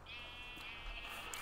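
A single drawn-out Minecraft sheep bleat rings out clearly over a quiet, steady background, holding its wavering tone for over a second before fading.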